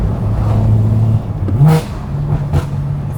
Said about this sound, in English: This you gotta really rev match it.